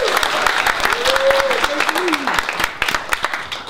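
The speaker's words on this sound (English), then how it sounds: "let's give a big round of applause to Mike and Freedom Forum" An audience at a Santa Cruz rally against the NDAA applauds, a loud, dense burst of clapping with a few voices and whoops rising over it, continuing steadily and thinning slightly toward the end.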